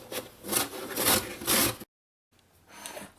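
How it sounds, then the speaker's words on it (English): Green mango being grated by hand for Trinidad mango kuchela, a rough scraping rasp repeated in strokes for under two seconds, then a brief silence and a fainter scrape. "I'm going to finish grating these because it needs to go out into the sun to dry"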